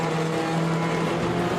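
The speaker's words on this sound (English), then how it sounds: "Gets the car nicely rolling, not too much wheel spin." Touring race car in the British Touring Car Championship at Snetterton pulling away from a race start with little wheelspin, a steady loud engine drone with a sustained low tone throughout.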